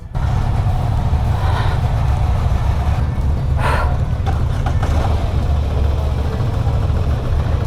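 A Moto Guzzi V85 adventure motorcycle engine runs steadily at close range, a loud continuous low rumble with a brief rise in revs partway through.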